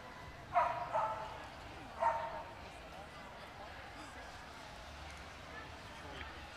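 A Boxer dog gives a few sharp barks, two close together and then one more, fairly faint and distant, followed by quiet room tone.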